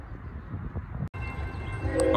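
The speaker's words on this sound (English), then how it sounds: "Another CSX train because of derailment." A CSX freight train rumbles along a Norfolk Southern track while rerouted after a derailment, a steady low rolling noise with a short break partway through, fairly faint and with no talk.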